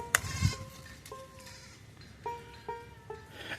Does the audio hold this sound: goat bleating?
yes